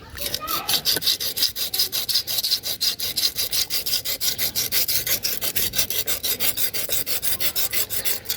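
A kitchen knife is sharpened on a wet whetstone, held at an angle, with quick, steady back-and-forth rasping strokes, roughly four per second, loud and close, continuing without pause throughout.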